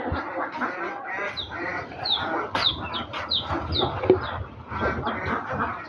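Domestic ducks foraging for food, giving repeated nasal quacks close by, with other bird calls and rustling farmyard sounds around them.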